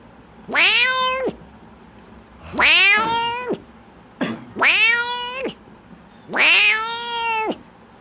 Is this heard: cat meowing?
yes